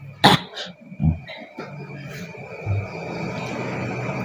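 A man coughs during a Buddhist dharma sermon: a few sharp, separate coughs close to the microphone early on, then throat-clearing and low murmuring sounds that fade into quieter room noise.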